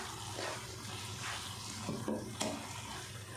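A spoon stirring and breaking up thick custard powder halwa in a pan, soft scraping and sizzling under a steady hiss, with a couple of small knocks of the spoon.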